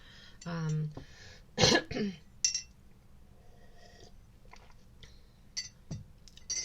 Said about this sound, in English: So, with me clearing my throat, I've done it several times throughout this reading